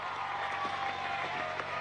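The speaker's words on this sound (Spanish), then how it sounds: "un aplauso a nuestro vicepresidente del área social, Jorge Arriaza Montserrat." Audience applause in a hall at a Venezuelan government event honoring a social-area vice president, a steady dense patter of many hands clapping throughout without a break.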